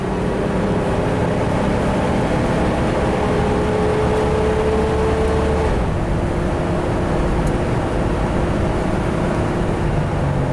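An Isuzu Rodeo engine pulls hard at full throttle, a dense, loud, continuous drone with a rising tone that holds steady, then eases slightly near the end, with no talking.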